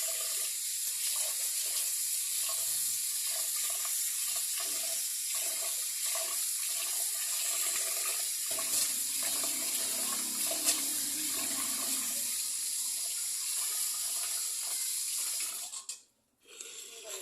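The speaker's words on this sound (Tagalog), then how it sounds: "Hugasan mo lang muna natin." Uncooked rice being washed under a running tap at a sink, a steady, fairly loud stream of water with swishing and splashing throughout, cutting off briefly near the end.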